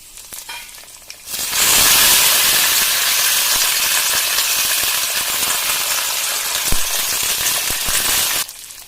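Loud, steady sizzling of five dried chillies frying in hot oil, starting abruptly and crackling continuously for several seconds before cutting off.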